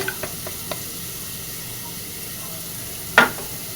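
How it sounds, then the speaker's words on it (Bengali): Spice mixture stirred with water into a paste for a Bengali dish: soft, sparse scraping ticks at low volume, then one sharper clack of the spoon near the end. "এবার এর ভিতরে পরিমাণ মতো জল দিয়ে মশলাটা ভালো করে গুলে নিচ্ছি।"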